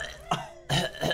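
Banjo the bear from the video game Banjo-Tooie gives two short, dainty coughs separated by a brief gap, with gameplay sound faintly underneath.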